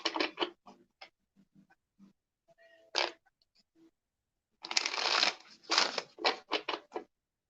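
A tarot deck shuffled by hand in quick riffling bursts, a short burst at the start, scattered soft card taps, then a longer dense flurry of shuffling with sharp snapping pulses near the end, close and clear.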